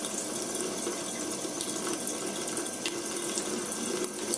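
Cold water runs from a kitchen sink faucet in a steady, close hiss and splash, unbroken throughout with no voices.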